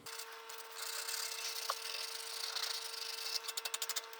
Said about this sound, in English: we'll take a little piece of sandpaper and we'll clean up any little burr